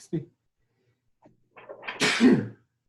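A close, loud sneeze with a breathy build-up and then a sharp burst, after a few faint sniffs and small noises.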